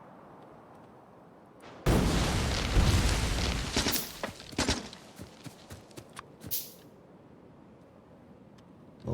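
Grenade blasts in Factorio erupt suddenly as a loud broadband burst, then a cluster of sharp cracks and pops that thin out over several seconds, with a single short spoken word near the start.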